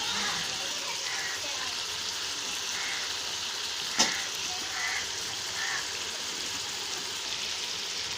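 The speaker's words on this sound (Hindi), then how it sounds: "और अब हम इसको भूनेंगे थोड़ी देर के लिए" Meat for tinda gosht sautés in a pot, giving a steady close sizzle and hiss that runs evenly throughout, broken once by a brief sharp clink near the middle.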